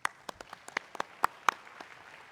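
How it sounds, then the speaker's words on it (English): Scattered hand claps from a small group, sparse and fairly faint, with irregular rhythm. "Round of applause for Kelly."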